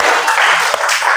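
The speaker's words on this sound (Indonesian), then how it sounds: "Tepuk tangan dulu untuk kita semua." A class applauds together at the end of a coding and algorithm programming lesson, producing a dense, steady wash of clapping that fills the whole moment, close and fairly loud, with no talk over it.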